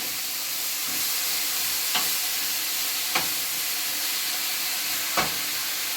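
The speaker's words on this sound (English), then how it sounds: "Stir fry it." Eggplant, tomatoes and mushrooms stir-fry in a hot pan with a steady close sizzle, broken by a few sharp scraping strokes of a spatula tossing the vegetables; no talking.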